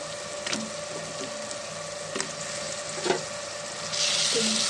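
Okra pieces sizzle steadily in a pan with onion, tomato, cumin and crushed garlic for a village-style okra curry, a continuous frying hiss broken by a few soft stirring clatters, with the sizzle swelling louder near the end.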